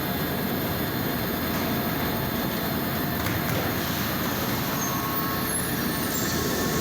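A SEPTA route 13 trolley at 13th Street Station, an underground stop, giving a loud, continuous rumble and roar that holds steady throughout, with faint high whines, no voices.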